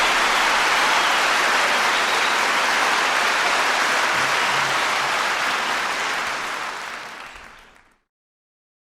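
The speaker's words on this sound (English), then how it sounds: "Listen to that crowd." Crowd at a 1971 live concert at Massey Hall breaking into loud, sustained applause and cheering, steady for several seconds before tapering off and cutting to silence.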